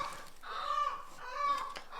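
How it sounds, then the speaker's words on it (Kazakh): Domestic chickens clucking at a home, two drawn-out, mid-pitched calls about a second apart, moderately close with no talk over them. "Үйімізде тауық бар енді, тауық бар."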